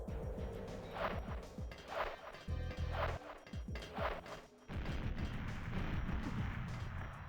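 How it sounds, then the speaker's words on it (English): Grenade blasts go off in the GoldenEye 007 video game, several booming, crashing explosions in irregular succession with game sounds between them. "I want to throw some grenades because it'll be funny."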